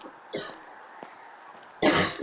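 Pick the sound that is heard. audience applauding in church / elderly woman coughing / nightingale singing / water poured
elderly woman coughing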